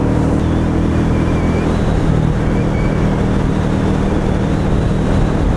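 A Royal Enfield Meteor 350 motorcycle engine at full throttle makes a steady, loud, unbroken roar, with heavy wind rush and no speech.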